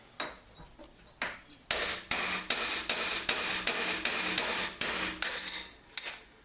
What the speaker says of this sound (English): back it off, then knock the broach out